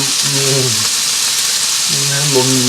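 Steak searing in a pan beside a mushroom and cream sauce, a steady close hiss of frying that runs the whole time while someone talks over it.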